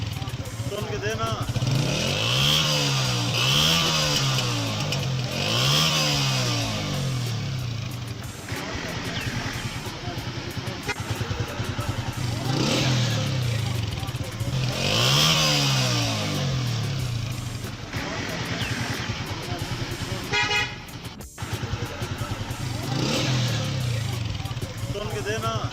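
A Honda CG 125 motorcycle, previously misfiring, runs with a genuine carburetor fitted, its engine revving up and down in repeated smooth rising and falling sweeps, loud and close, while someone talks over it.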